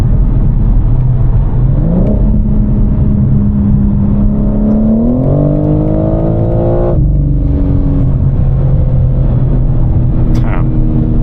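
A BMW M4 engine drones loudly and steadily while driving at night, its pitch climbing through the gears with a brief drop and pickup, a continuous close in-car roar.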